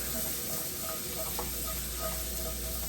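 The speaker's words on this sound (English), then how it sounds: "Let's add our finely chopped garlic. Let's get that in. Stir that around really good." Finely chopped garlic sizzles steadily in butter and oil in a cast iron pan, a continuous soft frying hiss with faint crackles and light stirring scrapes.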